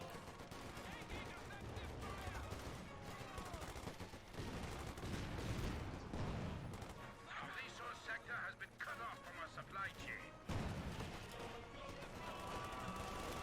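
Bursts of machine gun and rifle fire in the real-time strategy game Company of Heroes 2, including a .50 cal, rattling steadily under fast, excited commentary throughout a busy competitive match.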